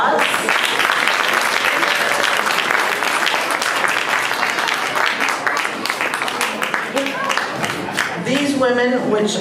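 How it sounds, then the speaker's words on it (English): At a school band's winter concert, a crowd gives the band board a loud, sustained round of applause. Near the end a voice begins speaking over the fading claps. "Let's give them a round of applause."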